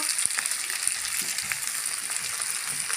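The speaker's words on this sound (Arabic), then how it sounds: "نبتدي نضيف المكرونه بتاعتنا" Pasta sizzles and crackles in a hot frying pan, a dense steady fry with occasional soft taps and stirring sounds, close and fairly loud with no one speaking.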